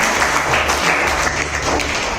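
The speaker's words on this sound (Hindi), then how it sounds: "तो संदीप सर के लिए एक बार जोरदार तालियां हो जाए।" An audience at a school quiz show claps to welcome the quiz expert, a loud, dense burst of close applause lasting about two seconds.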